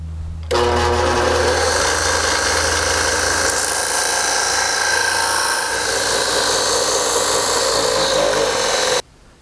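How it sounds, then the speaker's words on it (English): A loud, steady abrasive whir of a belt sander grinding down a metal nut, continuous and close, with a slight shift in pitch partway through before it cuts off. "You can use an abrasive tool like this sanding belt"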